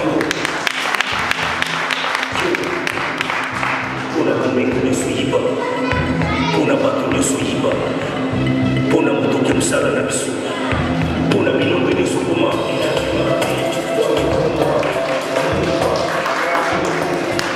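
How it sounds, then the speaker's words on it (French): Audience at a fashion show for Ekeko Congo outfits in Paris applauding steadily, a dense continuous wash of clapping that runs the whole time alongside music and a speaking announcer. "On applaudit bien fort, on applaudit bien fort"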